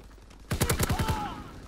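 A burst of rapid gunfire from a Call of Duty WW2 online match, a quick string of sharp shots starting after a quiet moment, followed by a ringing tone as the firing trails off.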